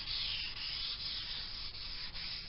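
Fine abrasive rubbing over the wooden body of a Lakland bass being relic-finished to smooth the raised grain: a steady, close, dry hiss with slight rhythmic swells from the back-and-forth strokes and no talk.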